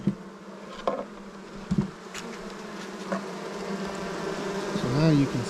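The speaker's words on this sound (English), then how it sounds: "See all these bees working it?" Honey bees hum steadily at an open beehive, a close, continuous droning buzz with a few knocks and bumps of hive equipment mixed in.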